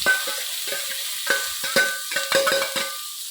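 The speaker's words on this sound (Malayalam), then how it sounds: "നന്നായിട്ട് വഴറ്റിയെടുക്കണം." Thinly sliced onion sautés in a home kitchen pan, a steady sizzle broken by repeated scraping stirs and light clinks of the utensil, close and fairly loud with no talk.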